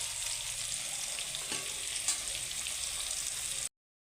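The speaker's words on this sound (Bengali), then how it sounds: "এরকম আমার পেঁপেগুলো ভাজা হয়ে গেছে, পেঁপেগুলো উঠিয়ে নিচ্ছি।" Papaya pieces frying in a pan for a Bengali mutton curry give a steady, close sizzle with a few stirring scrapes, no talk, ending abruptly in silence.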